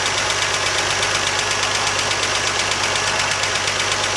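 An old Jeep CJ-5 engine with an exhaust leak idles roughly and steadily up close, with a raspy, ticking exhaust chuff pulsing rapidly throughout and no voices.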